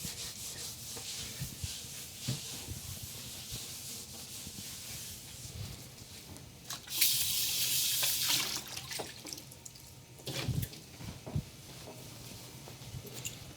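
Kitchen tap running into a sink for a rinse while making gluten-free bolognese with homemade noodles, a soft steady hiss with a louder gush of water midway and some clatter and rubbing, fairly quiet.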